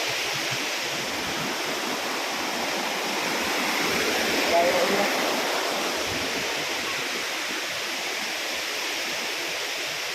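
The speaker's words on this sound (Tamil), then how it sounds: "சிற்றறியோட தண்ணி அழகாக விழுந்துகிட்டு இருக்குது" Water pouring down at a small waterfall, a steady broadband rush heard close and evenly throughout, with a voice faintly audible beneath the roar.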